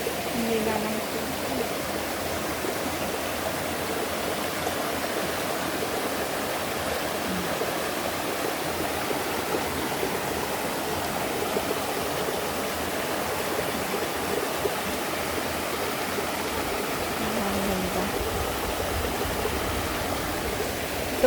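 Clear river water rushes steadily along the Yellow Dragon River in Hong Kong, a continuous broadband gurgle close by with a faint voice now and then beneath it.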